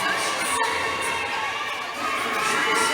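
Crowd noise rises at a volleyball match between Judiciary Justice Servers and Senate Lady Defenders, a steady wash of shouting and cheering held close and loud for the whole stretch, with no single voice standing out.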